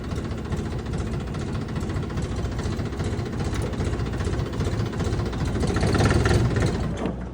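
A Bulat 244 PRO tractor engine is started and runs at a steady, rumbling idle, close by and fairly loud, swelling briefly louder near the end before settling.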